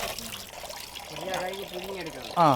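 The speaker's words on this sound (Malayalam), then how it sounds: "ബീഫിനെ നന്നാക്കി ഒന്ന് കഴുകി എടുക്കണ്ടേ." Water runs and splashes from a tap while beef pieces are washed for a Kerala-style beef curry, a continuous trickle heard beneath a person talking.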